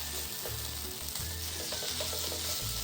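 A pan of sweet potato and bamboo shoot filling, moistened with a little water, sizzles loudly and steadily while it pan-fries, with faint low knocks of stirring underneath.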